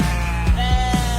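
A sheep bleat sound effect plays within a sports talk radio station jingle, a few short wavering bleats over steady musical tones, loud and close.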